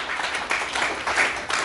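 A room of guests applauds at the ceremonial opening of a cultural festival as the patron, Professor Dr. Martin Pätzold, is welcomed, giving a dense, fairly loud wash of clapping that swells in waves, with a voice faintly underneath.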